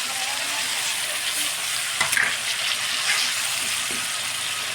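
Spices and garam masala frying in a pan for a potato dish, a steady close sizzle with a few small clinks and stirring scrapes, no talking.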